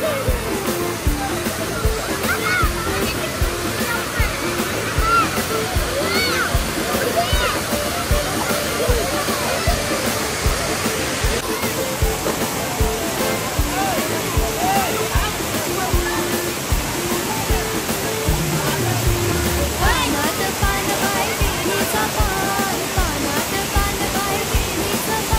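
Water pours over Akka Devi Dam near Chirner village, Uran: a loud, constant rushing roar fills the scene, with faint voices in the background.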